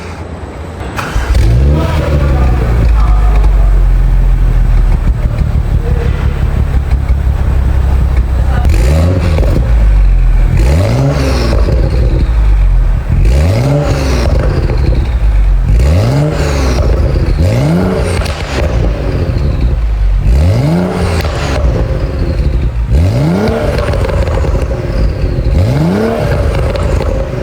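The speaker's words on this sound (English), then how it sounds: "Now that's the sound of a BMW 135i" A BMW M135i engine revs hard again and again, each burst rising in pitch and falling back, loud and close, over a steady idling rumble.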